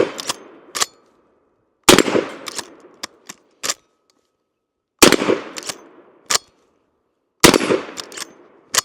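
About eight rifle shots from a Smith and Wesson 1854 Stealth Hunter lever-action ring out loud and close, spaced unevenly with short gaps between them, each sharp crack trailing off in a brief echo.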